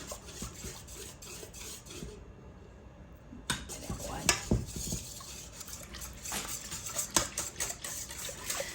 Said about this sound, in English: And then I'm going to take my whisk and whisk it all up good.